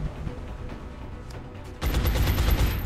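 Gunfire in the XCOM video game, a faint rattle of distant shots building into a loud, dense burst of automatic fire in the final second.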